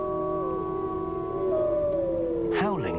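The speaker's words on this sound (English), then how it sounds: "hunt often begins with a rousing group howl." Grey wolves of a pack howl together, long sustained tones that slide and overlap, with a rising chorus of higher wavering howls joining near the end, steady and fairly close.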